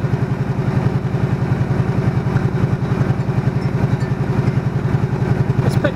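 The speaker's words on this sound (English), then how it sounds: "I'll just check the engine RPM," A Honda VT125 Shadow motorcycle idles while warming up, a close, steady, rhythmic engine chug with even low pulses and light mechanical clatter, with no talk.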